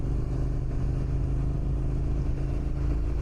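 A Japanese V-twin sport motorcycle pulls away from a start, its engine giving a steady, continuous drone that holds a loud, even level throughout, with no voices.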